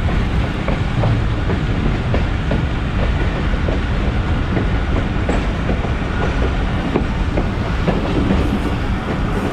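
The Thal Express passenger train runs steadily on track in Pakistan, with a continuous loud rumble and repeated clickety-clack of wheels over rail joints throughout.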